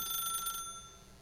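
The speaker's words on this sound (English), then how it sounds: "As Stanley picked up the phone" A telephone in the video game The Stanley Parable, a short electronic bell-like ring that stops abruptly and leaves a faint background hum, quiet and alone.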